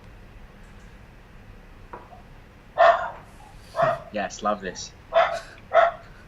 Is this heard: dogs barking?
yes